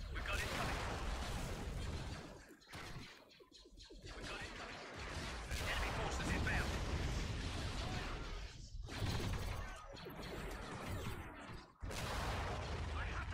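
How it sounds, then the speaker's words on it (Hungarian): Dense, continuous explosions and gunfire from a Star Wars video game battle, loud and chaotic, with brief lulls between bursts. "Persze, mekkora robbanások vannak itt."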